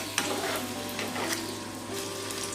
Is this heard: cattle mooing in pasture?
no